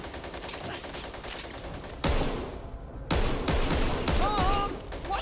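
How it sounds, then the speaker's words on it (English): Gunfire in the zombie shooter Back 4 Blood, sustained rapid automatic bursts with a brief lull in the middle and game voices calling out over the shooting. "Watch where you're shooting!"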